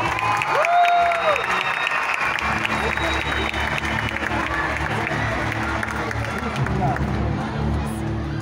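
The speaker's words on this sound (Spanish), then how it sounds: "vamos a desearle suerte con un bonito aplauso" Circus audience applauding ahead of a human cannon act, sustained crowd clapping with some cheering over a low rumbling background hum, continuous throughout.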